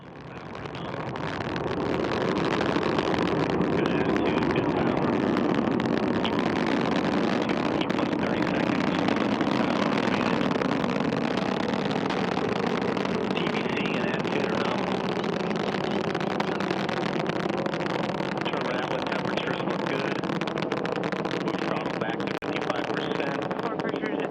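An Antares rocket lifts off carrying the SS Gene Cernan cargo spaceship toward the International Space Station, a broad, distant roar swelling over the first seconds and then holding as a steady, rumbling wall of sound.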